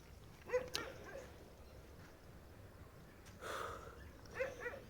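A few soft, distant dog barks and whimpers spaced over a few seconds in a quiet setting.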